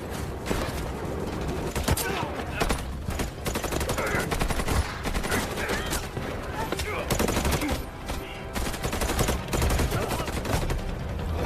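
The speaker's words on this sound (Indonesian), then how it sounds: "Baku tembak terus terjadi" Heavy gunfire in an action film scene as guards are ambushed in a shootout: dense, continuous bursts of automatic and single shots with loud impacts, sustained throughout at close range.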